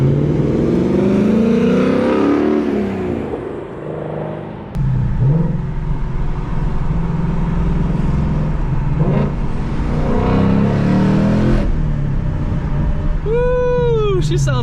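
Ford Mach 1 Mustang with a newly fitted exhaust, engine revving loudly and close in repeated surges, with a sharp tire-like squeal near the end and voices talking underneath.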